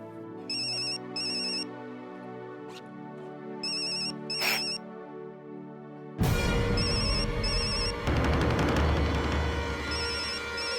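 A phone ringtone chimes in repeated short bursts over a musical background, then a louder, noisier stretch of sound comes in while the ringing continues.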